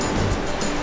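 Loud rushing ocean surf crashing against rocks at Canhugas Mini Falls, a dense continuous roar with low rumble, close by and unbroken, with no voices.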